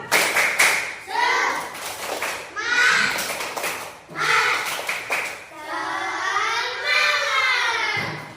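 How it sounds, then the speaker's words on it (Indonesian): A group of children in a class session does a rhythmic spirit clap, with sharp bursts of clapping in patterned sequences mixed with chanted voices, ending in a sustained sung or chanted phrase. "Tepuk semangat."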